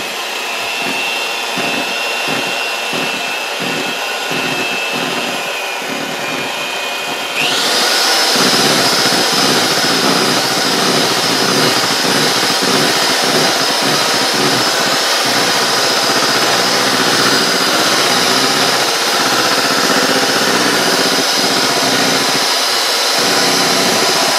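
An electric mixer beats a very thick keto bread batter with a continuous motor whine. It jumps to a higher, louder speed partway through and keeps running steadily, with no voices.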